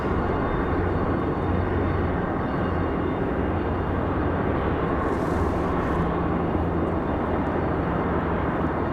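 A general aviation aircraft arriving at Raleigh-Durham airport gives a loud, steady engine rumble that holds without a break from start to finish, with no voices.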